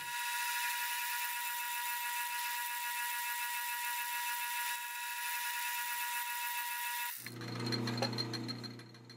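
A metal lathe squaring bolt ends gives a high-pitched whining tone with steady harmonic overtones for several seconds, then shifts abruptly into a rougher, grinding mechanical churn.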